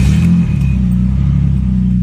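A Japanese car's engine rumbles through its aftermarket exhaust in a mansion garage, a loud, close, steady low drone with a slight rev building early, no voices over it.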